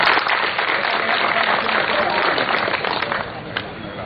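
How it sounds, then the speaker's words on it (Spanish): Applause at a gathering of municipal police and agricultural producers in Nagua, a dense, loud patter of many hands clapping continuously, fading slightly toward the end, with voices mixed in. "Pero un aplauso para él"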